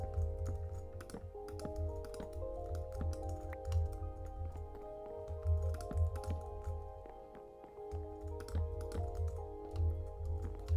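Fingers type on a computer keyboard in rapid, uneven bursts of soft clicks and taps, close and fairly quiet, over a steady tonal background.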